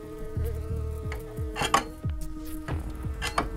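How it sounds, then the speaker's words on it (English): Wasps buzz around a nest at a camping site, with their droning hum heard close by. Short metallic clinks and knocks land at intervals over the buzzing. "I don't like wasps."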